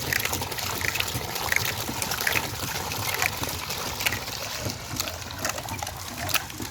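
Water from a homemade free-energy water pump gushes steadily into a basket, a continuous splashing rush with scattered brighter drips and trickles, fairly close and unbroken by speech.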